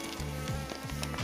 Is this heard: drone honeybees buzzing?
yes